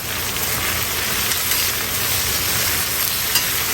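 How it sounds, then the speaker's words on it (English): Broccoli and shrimp with vegetables in garlic sauce are stir-fried in a hot pan, a loud, dense, continuous sizzle with a rain-like hiss and slight stirring movement, no talking. "we're going to go ahead and toss all this together"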